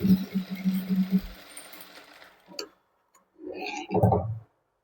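A sewing machine stitches the side seam of a princess-cut, back-open blouse in a fast, close, ticking run that stops after about a second, followed by a quiet pause and someone speaking.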